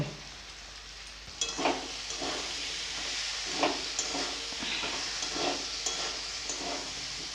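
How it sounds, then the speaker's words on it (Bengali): Fried potatoes and salt are stirred into a cooked-down spice masala in a pan, giving a soft steady sizzle. A series of scraping stirs and clatters repeats every second or so, fairly quiet and with no talk. "এবারে ভেজে রাখা আলুগুলো দিয়ে দিব এবারে দিয়ে দিব স্বাদ মতন লবণ"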